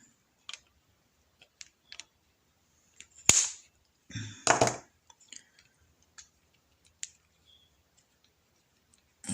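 Snips of a cutter severing Tamiya Globe Liner RC truck kit parts from the plastic sprue: sparse sharp clicks and a couple of louder cracking snaps, close and isolated against near silence.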